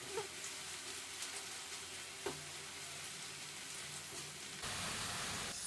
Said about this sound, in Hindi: गोल्डन कलर आने तक हम प्याज को फ्राई करेंगे